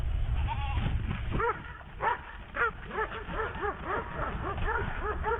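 A dog barking repeatedly in a stream of short, rising yelps or whining barks, fairly close, over background noise that drops out after the first second and a half.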